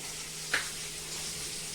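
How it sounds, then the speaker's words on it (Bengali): Koi fish frying in oil in a pan, a steady close sizzle throughout with one brief clatter partway through. "মাছটা আমার এক সাইডে ভাজা হয়ে গেছে, এখন আমি উল্টে দিই"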